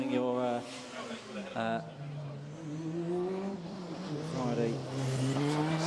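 The Liverpool Formula Student race car runs in the FSUK 2019 endurance event, its engine revving and falling in sweeping pitch as it drives past, under steady commentary.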